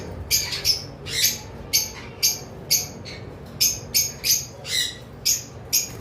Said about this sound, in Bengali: এখানে নর্মাল কিছু লাভবার্ড রয়েছে